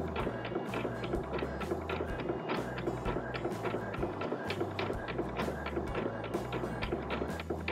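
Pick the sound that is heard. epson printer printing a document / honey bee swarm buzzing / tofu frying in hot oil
epson printer printing a document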